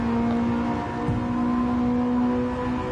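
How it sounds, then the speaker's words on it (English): Car engine revving hard in a racing video game, a steady high-pitched synthetic engine whine held through a corner with slight pitch shifts, clear and continuous. "Revving it right out around the left-hander there"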